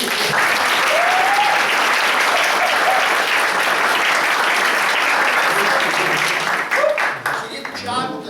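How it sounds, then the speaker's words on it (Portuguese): An audience at an astronomy workshop breaks into sustained, dense applause that stays loud before thinning out near the end, as a few voices rise over it. "Queria um agradecimento especial também, até uma salva de palmas"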